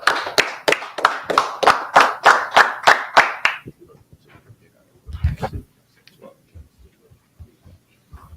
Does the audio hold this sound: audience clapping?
yes